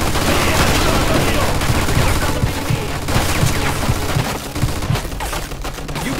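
Machine gun fire in the Mafia II video game: loud, dense rapid bursts of automatic gunshots with booms mixed in, voices shouting underneath.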